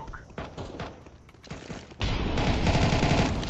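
Gunfire in a Counter-Strike: Global Offensive match, scattered shots and thumps giving way to a dense sustained burst of rapid fire, loud and close, with faint voices beneath.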